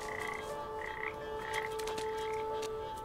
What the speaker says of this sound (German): Ja, schöne Frösche.